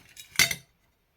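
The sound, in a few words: handling pieces of stained glass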